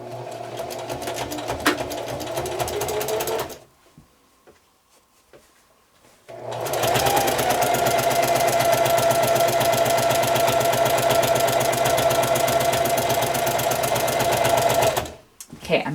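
Sewing machine running fast and steady, stitching a quarter-inch binding seam on a quilt, with a short pause partway through and then a long continuous run, loud and close.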